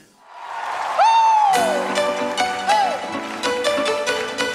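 A church congregation bursts into applause during a service, with scattered claps building into a sustained round, and sliding whoops or whistled calls rising above them nearby.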